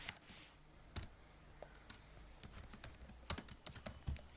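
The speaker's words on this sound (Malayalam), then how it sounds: "അപ്പോൾ ഫസ്റ്റ് നമുക്കിവിടെ എന്തെങ്കിലും ടൈപ്പ് ചെയ്ത് കൊടുക്കാം" Someone types on a computer keyboard, irregular bursts of soft key clicks and taps, close but quiet, speeding up toward the end, with no speech.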